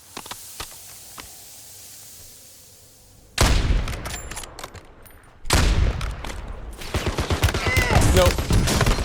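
Gunfire in the Warzone battle royale game: a quiet stretch with a few sharp cracks, then two loud bursts of rapid automatic fire with impacts, close and dense.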